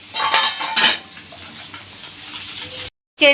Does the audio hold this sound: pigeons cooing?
no